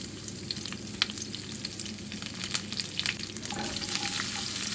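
Mustard seeds, urad dal and fresh curry leaves frying in hot oil, a dense crackling sizzle with bright pops and spits scattered throughout, close and fairly steady with no talking.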